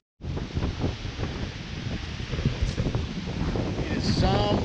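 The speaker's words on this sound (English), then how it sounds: "It is some windy up here" Strong wind roars and buffets steadily against the microphone on a mountain trail in the Adirondacks, New York, a constant rushing blast with brief flutters, loud and close throughout.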